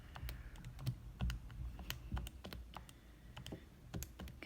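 Quiet, scattered key presses as equations are typed into a graphing calculator, a handful of sharp clicks at irregular intervals over a soft background.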